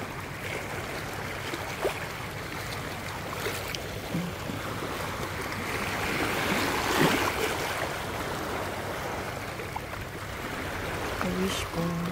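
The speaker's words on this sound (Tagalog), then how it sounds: "Malakas ang alon." Rough sea waves wash and churn continuously with a windy rush, swelling louder near the middle, with a few faint knocks and distant voices underneath.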